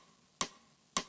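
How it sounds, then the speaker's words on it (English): Two dry, unprocessed snare drum hits from a Circle's drums sample, each a short sharp crack with a quick decay, spaced about half a second apart against a faint hum. "Snare on its own sounds like this."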